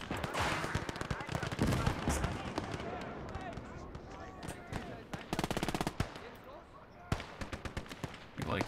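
Soldiers in the Call to Arms Gates of Hell war game fire steadily, with dense bursts of machine-gun and rifle fire and scattered distant shots over a noisy battlefield background, while someone talks over it.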